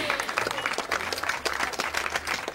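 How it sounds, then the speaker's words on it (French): A short burst of warm applause from an audience greeting a hostess at an evening gathering, dense clapping throughout with faint voices underneath. "d'applaudir chaleureusement notre adorable hôtesse"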